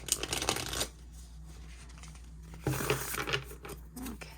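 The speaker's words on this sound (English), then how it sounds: "I already pre-shuffled these, but I will just do them again." A deck of tarot cards being shuffled by hand close up, two bursts of riffling and flicking separated by a short pause, fairly quiet with no talking.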